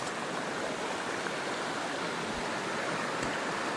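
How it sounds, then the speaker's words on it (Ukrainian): The Moloda, a mountain river, rushes in a continuous broadband wash close by, with two faint low thumps near the end and no one speaking. "Ну що, я прийшов, а тут річка. Це річка Молода."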